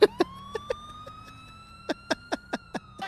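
Police car siren in a GTA roleplay game session, a steady rising-and-falling wail running through the whole stretch while a series of short sharp blips and thumps punctuates it at irregular intervals.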